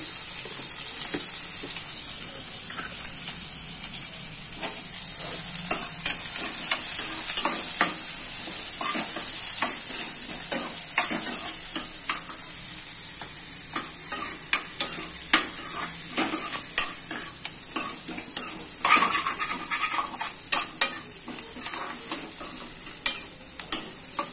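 Onions fry in a pan for egg masala curry, a steady sizzle running throughout, with frequent clicks and scrapes of a spoon stirring and a faint watery hiss.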